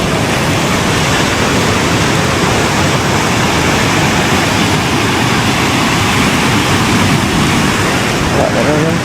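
Continuous roaring surf fills the scene, a loud, dense wash of breaking waves without pause.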